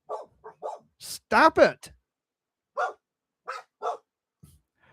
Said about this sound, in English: They're gonna bark. There's nothing I can do. They're gonna bark. They're dogs.